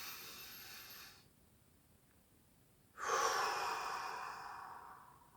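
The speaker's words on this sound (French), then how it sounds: "On inspire par le nez, on expire par la bouche." A long, slow breath drawn in through the nose and then released through the mouth, the soft exhale swelling loud and airy before fading, heard alone in a quiet room during a breathing exercise.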